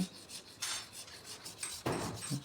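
Sandpaper or a rasp scrubs over slightly damp, unseasoned wooden door panels to strip loose fibres before polishing, in short quiet rasping strokes with brief gaps between them.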